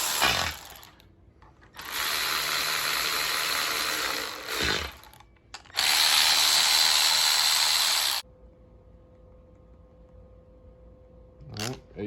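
Ratchet running down the bolts on a Holley oil pan during a Gen 5 LT 6.2 engine teardown: two long, loud, steady whirring bursts, close by, with quieter clicks and handling noises between them.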